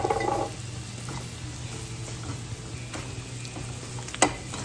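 Flour frying in a pan for a homemade Salisbury steak gravy, a steady close sizzle with a low hum beneath it and a single sharp knock near the end, without any talking.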